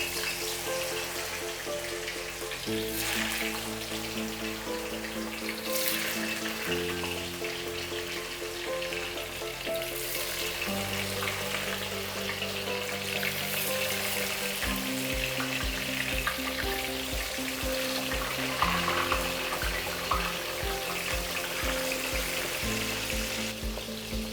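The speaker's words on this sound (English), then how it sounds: "Now you can deep fry for the tempeh finger." Tempeh fingers deep frying in hot oil, a loud, continuous sizzle and crackle that holds steady throughout, with occasional clinks and splashes of kitchen handling and no talk.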